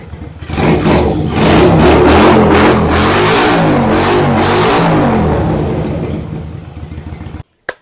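A Honda Steed 400 motorcycle, restomodded in a street Fat Bob style, revs loudly up close, its engine rising into a sustained roar for several seconds before dropping off abruptly and cutting out.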